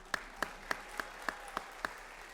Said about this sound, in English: Another round of applause for Ms. Aguirre.